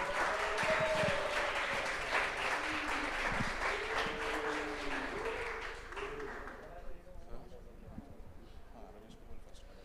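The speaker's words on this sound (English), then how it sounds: "One more loud cheer for all our sponsors who have made this happen in a grand style" At a Raheja Premier League cricket season 4 event, a crowd cheers and applauds loudly for the sponsors, a voice carrying over the clapping before it thins out and fades in the final seconds.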